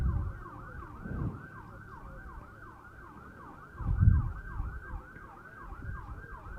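An ambulance siren wails in a steady repeating up-and-down cycle, moderately distant and continuous, with low rumbling knocks and thuds underneath from a curling rink during a women's pairs playdown game.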